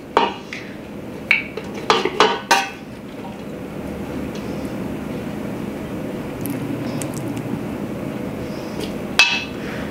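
A metal spoon clinks sharply against a pan a few times at the start and once near the end, nearby and loud, while rice is handled in the kitchen; a low steady room hum fills the quieter stretch in between.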